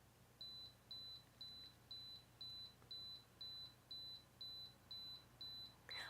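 A Canon camera self-timer counts down with twelve evenly spaced, short high-pitched beeps at a steady pace, faint over a quiet room hum, ending in a brief click.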